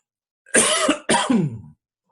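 A person coughs twice in quick succession, the second cough rolling into a throaty clearing. Both are loud and close against an otherwise silent background.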